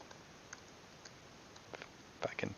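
Computer keyboard typing: a few faint isolated clicks early, then a quick burst of close key taps near the end, quiet and without talk.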